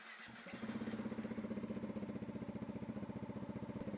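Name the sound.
motorcycle engine starting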